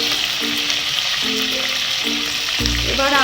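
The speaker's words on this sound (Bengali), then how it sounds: "আর 5 মিনিট এভাবেই লো ফ্লেমে এই সাইডটাকেও আমরা ফ্রাই হতে দেব।" Tandoori chicken fries on a low flame in a wok with a constant close sizzle and crackle, and a faint tonal hum comes and goes underneath.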